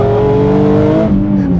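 A stock-engine Infiniti G37 with over 700 wheel horsepower accelerates hard with traction control cutting in, its engine droning loud and close with a steady tone that shifts and wavers, and there is no talk.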